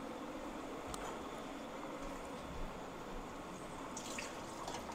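Tap water runs steadily into a cooking pot in a home kitchen, a continuous close rushing splash with no voices.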